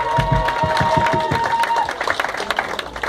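A gospel concert congregation on a riverboat on the Ohio River in Cincinnati cheers and claps, with rhythmic clapping and crowd shouts under a sustained held tone, the claps thinning into scattered bursts toward the end.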